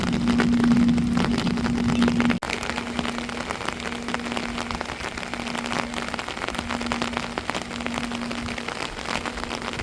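Heavy rain from Cyclone Ditwah pours down steadily, a dense, constant hiss and patter of drops on surfaces, with a low droning hum in the first seconds that keeps returning in faint bursts.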